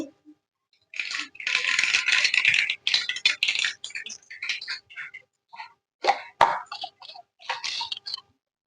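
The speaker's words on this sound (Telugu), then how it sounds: "ఆవాలు" Mustard seeds hit hot oil in a pan over a low gas flame and burst into quick irregular pops and spatters, loud and close, thinning into scattered crackles.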